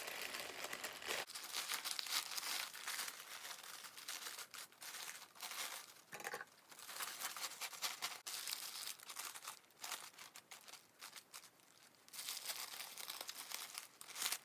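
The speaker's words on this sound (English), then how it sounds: "I'm just folding the last two parts of the tissue paper like so" Tissue paper being folded and crinkled while wrapping a bouquet, giving a steady close crackle with brief pauses and no voices.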